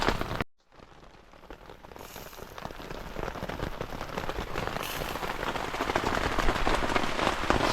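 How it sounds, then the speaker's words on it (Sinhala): Heavy rain pours at night in Kabaragala, a steady loud hiss of drops on surfaces that starts after a brief silent gap and keeps building, with no voices heard. "නෑ නෑ අතරම පොඩ්ඩක් නෙවෙයි මාර විදියට වහිනවා"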